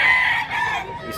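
A rooster, a two-year-old black and green-legged gamecock in Mantalungon, Cebu, crows close by in a single loud, drawn-out call that falls away toward its end.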